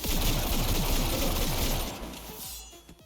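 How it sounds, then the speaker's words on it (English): Gunfire in the video game Cyberpunk 2077: loud, dense automatic bursts with crashing, shattering impacts, fading toward the end, with no one talking. "Gunshots pierce the air, each echoing with a mix of desperation and determination"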